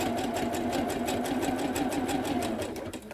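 A sewing machine runs steadily, stitching fabric for quilting-style pantaloons with a size 80–90 needle; a continuous close motor whir with a rapid even needle rhythm that holds throughout without pause.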